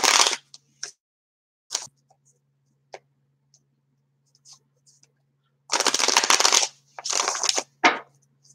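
Angel Tarot cards shuffled and drawn at a card reading, heard as bursts of crisp riffling and snapping with scattered light clicks and taps in between, close and fairly loud, with a faint steady hum underneath.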